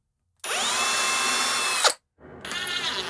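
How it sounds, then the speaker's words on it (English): An electric drill drives screws to fit casters onto a pipe-framed rolling shelf, with one steady whirring run that cuts off sharply, then a second run starting after a short pause, close and loud. "Thankfully, I can use the regular drill, not that 90-degree adapter for this one."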